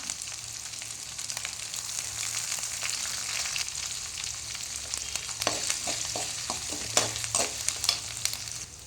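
Steady crackling sizzle of crushed curry leaves frying in hot oil, with a few louder pops and bursts of spattering toward the end. No voices.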